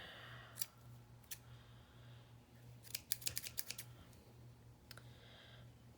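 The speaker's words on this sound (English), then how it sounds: "These scissors are on their last leg, if there is such a last leg." Worn craft scissors trim ribbon for a pink princess journal: a few isolated crisp snips, then a quick cluster of cuts, then another pair, close and quiet, with no talking.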